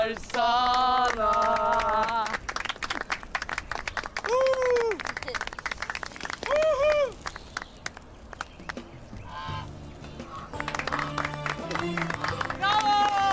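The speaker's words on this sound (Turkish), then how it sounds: "Alkış bitsin." After a birthday song, a group claps and cheers loudly indoors, the steady applause mixed with excited voices and honking noisemakers.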